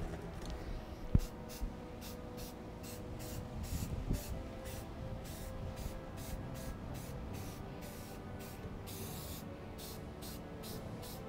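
Repeated short hissing bursts of an aerosol spray can coating smoke and bonfire tabletop terrain outdoors, a dozen or so pulses in steady rhythm over a low rumble of wind.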